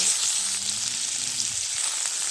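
Potatoes sizzle in hot oil with green chilli, panch phoron and bay leaf, a steady close frying hiss that holds throughout with no voices.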